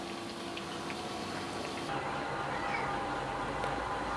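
Wheat biscuits deep-fry in oil over a low flame, giving a steady, soft, dense sizzle and bubbling that continues without a break and with no talk.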